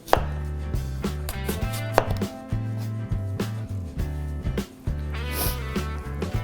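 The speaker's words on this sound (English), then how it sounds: "So we're just going to cut the cores out of the apples." A knife thuds repeatedly against a cutting board while the cores are cut out of apples, with close, crisp irregular chops and short pauses between cuts, and no one speaking.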